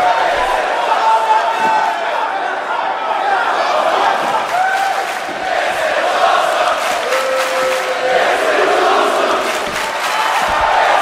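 A Cleveland wrestling crowd chants loudly and rhythmically inside the arena during a live independent show. Massed voices and cheers fill the space, with an announcer talking over the roar.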